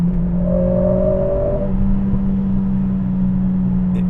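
A Mercedes CLA45s with an aftermarket exhaust held in fourth gear at full throttle, its engine droning loud and steady at high revs, with a short rising whine early on.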